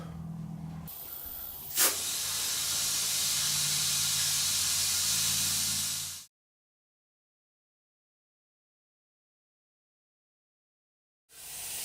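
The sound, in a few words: air compressor inflating motorcycle tire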